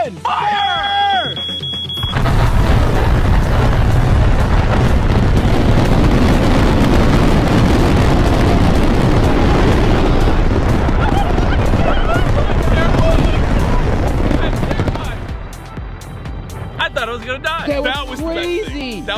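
A massive firework, billed as the world's largest with over 9,000 shells, erupts in a loud, sustained roar of overlapping bursts and crackles that continues for about thirteen seconds before cutting off, with voices around it.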